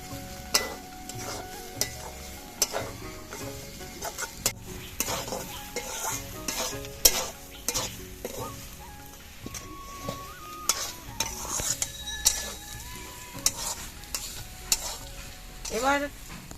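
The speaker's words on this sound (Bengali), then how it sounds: "এবার কালো জিরেটা দিয়ে আমি একটু নাড়াচাড়া করে নামিয়ে নিচ্ছি।" Nigella seeds sizzle in a pan beside cooked vegetable peels while a spatula stirs them, giving soft frying crackle broken by frequent sharp metallic scrapes and taps against the pan.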